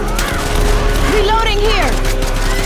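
Gunfire in the video game City 17: Aftermath, a loud, continuous, dense clatter of shots with mechanical and electronic tones layered over it and no pause throughout.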